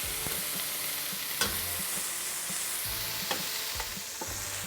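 Meat sizzles in its own rendered oil in a pan for Persian cherry rice, a continuous crackling fry punctuated by occasional stirring scrapes and knocks.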